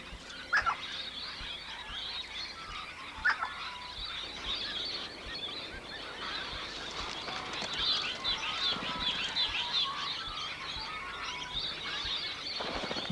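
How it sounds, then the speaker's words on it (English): Morning birdsong in the Daintree rainforest: scattered chirps and calls from several birds over a soft forest background, with a couple of sharp close notes and wingbeat-like flutters. "Morning brings the bird songs of the forest."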